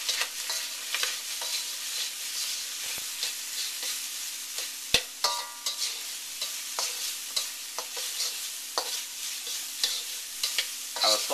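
Diced white onion, garlic and minced dry chilies sauté in a hot pan, a continuous bright sizzle punctuated by frequent spatula scrapes and taps, close and clear with no talking.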